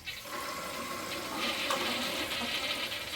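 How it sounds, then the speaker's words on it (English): A toilet flushes with a Kaboom Scrub Free continuous-clean system and two tablets installed, a steady close rush of water running through the bowl for the whole stretch without pause. "Give it a flush, see how it works."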